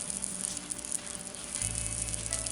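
Bread of a pastrami and cheese sandwich spread with mayo browning in a pan over medium-low heat, a steady close sizzle with a faint hiss that swells slightly in loudness partway through.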